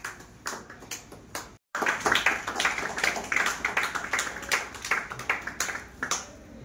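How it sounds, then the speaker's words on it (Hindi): An audience applauds on stage at a National Doctors' Day event in India: dense, steady clapping from a crowd, briefly cut out near the start, then continuing loud and close. "मंच पर तालियां आई हैं बहुत बहुत"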